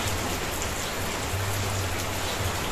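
Steady rain falls with a soft, unbroken hiss, even and continuous, with no voices.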